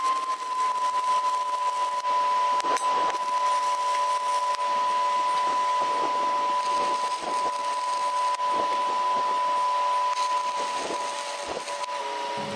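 Stick welding on an expanded-metal trailer tailgate with a welding rod, a steady crackling arc hiss that runs continuously and evenly throughout, with no talking.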